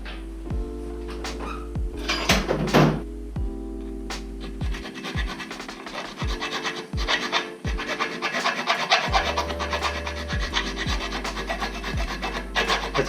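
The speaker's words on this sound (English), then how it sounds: "let me take a rat tail file and clean that out" A rat tail file rasping powder coating out of a hole on a FatBoy bobber part: close, repeated scraping strokes in an uneven back-and-forth rhythm with occasional clicks of metal, no talking.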